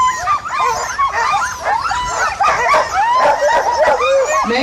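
Many sled dogs at the start of the 2017 Yukon Quest 300 race yipping, whining and barking excitedly all at once, a dense loud continuous chorus, with an announcer talking faintly underneath.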